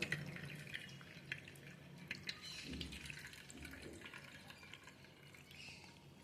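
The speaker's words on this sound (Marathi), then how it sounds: "चाळणीत काढलं ना त्याच्यावर गार पाणी टाकून घेऊ" Cold water poured over drained pasta in a colander near a sink, trickling and dripping, a faint running splash that tapers off over several seconds, with no one speaking.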